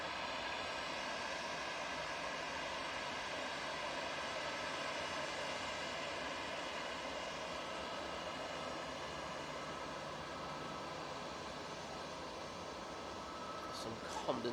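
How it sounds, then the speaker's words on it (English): A TUI Boeing 787-9 Dreamliner jet arriving at Manchester Airport on its flight from Cancun, a continuous, even engine rush lasting many seconds at a distance, with a brief sharper noise near the end. "Coming in from Cancun using the 787-9 Dreamliner."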